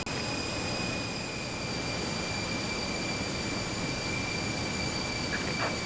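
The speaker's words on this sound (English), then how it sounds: "we'll just wait for the APU to come on" An aircraft auxiliary power unit in Microsoft Flight Simulator runs with a steady, loud, even whine and broadband rumble, holding constant throughout with no voices.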